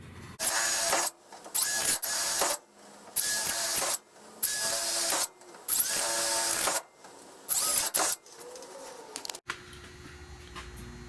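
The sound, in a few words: drilling holes in car body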